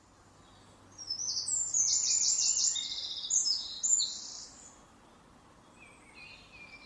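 A mistle thrush sings a bright, varied phrase of quick high notes, moderately distant, over a soft background hush, with a fainter call trailing afterward.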